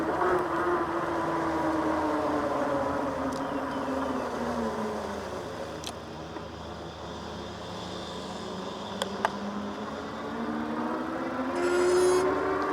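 Steady electric buzz from the motor of a Jansno X50 electric bike climbing a steep hill in 7th gear, a continuous whine that gently rises and falls in pitch beneath wind and road noise.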